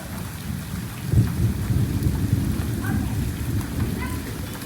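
Steady rain patters on surfaces while a low roll of thunder swells and rumbles underneath, with a few faint voices in the background.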